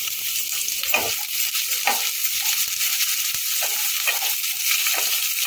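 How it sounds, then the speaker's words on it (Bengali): Sliced onions, cut into long strips, fry lightly in oil in a pan for spinach pulao, giving a steady soft sizzle with a few stirring scrapes and no talking. "সেটাকে আমরা দিয়ে দিচ্ছি পেঁয়াজটাকে একটু হালকা করে ভেজে নেব"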